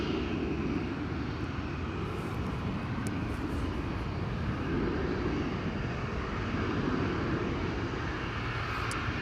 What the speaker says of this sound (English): That's KLM flight 1451 to Toulouse.